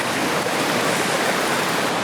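Waterfall on a river in China, a steady loud roar of rushing, splashing water with no pauses.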